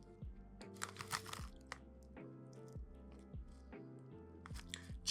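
Crisp Omani Sohar potato chips crunch between the teeth in close, quiet bursts, a crackly bite followed by several rapid chewing crunches, with no talking.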